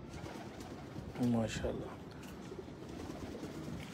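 Rooftop pigeons, including Chinese pigeons, give a brief burst of cooing that stands out over steady outdoor background noise, fairly close, while someone speaks.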